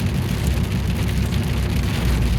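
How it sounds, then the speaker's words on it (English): Heavy storm rain in southeast Alabama pours down as a dense, steady, unbroken roar of water hitting surfaces, loud and constant with no pauses and no voices. "A lot of rain. I mean a lot of rain."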